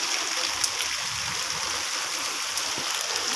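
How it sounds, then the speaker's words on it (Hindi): Rainwater running along a road after rainfall, a steady broadband rush and trickle of flowing water with no voices, heard continuously throughout. "ये देखें सड़क से पानी चलना शुरू हो गया।"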